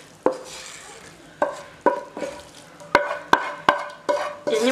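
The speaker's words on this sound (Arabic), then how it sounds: "غادي نضيفوا البطاطس، الخضر ديالنا من بعد ما تشحروا." Potatoes and vegetables going into a hot frying pan, with a run of sharp, close clatters and scrapes, irregular at first and then quicker, over a low sizzle.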